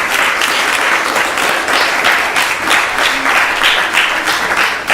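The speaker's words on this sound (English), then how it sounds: "So please give her a big round of applause." A loud, close round of applause at a Sunday Vedic school gathering at an ISKCON temple in Phoenix, with dense clapping from the audience that pulses slightly and continues steadily from start to finish.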